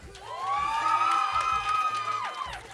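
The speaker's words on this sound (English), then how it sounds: "We're going to do our final cheer." A large crowd at a Montana FFA state convention gives a loud, sustained final cheer, with many voices shouting and whooping together in one continuous swell lasting nearly three seconds.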